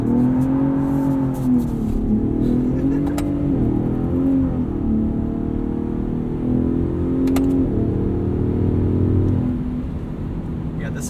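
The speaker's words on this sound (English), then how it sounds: "Into Baja mode exhaust." A 2021 Ford F-150 Raptor 37 Performance Package engine and exhaust in Baja mode drones and rises and falls through gear changes on a dirt road, a loud continuous rumble heard from inside the cab.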